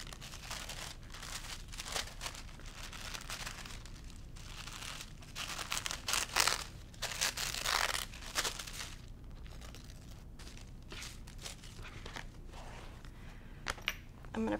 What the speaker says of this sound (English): now we're gonna remove our tissue paper one last time.